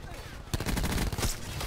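Sniper gunfire in the video game Call of Duty Black Ops 4, a few sharp loud shots cracking in quick succession after a brief quiet moment, with speech likely mixed in.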